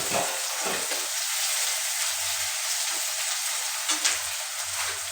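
Chopped onion and green chilli frying in hot oil in a pan, a steady close broadband sizzle with occasional stirring scrapes, continuous throughout with no talking.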